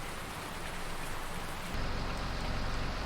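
Steady rain falls outdoors as a dense hiss of drops on surfaces, growing slightly heavier partway through, with no voices.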